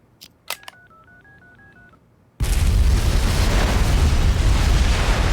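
A bomb detonates in the video game Unheard, preceded by quick beeping tones like a phone being dialed, then a sudden loud blast that keeps roaring at full volume to the end.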